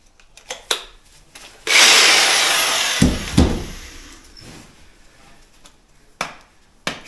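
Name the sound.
power drill drilling into door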